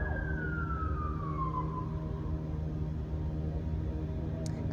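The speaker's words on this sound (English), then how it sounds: "I'm gonna wait for this truck to pass so that way you guys could hear me better." A truck passes outside, its low steady engine rumble filling the background while a siren sweeps downward, loud and continuous throughout.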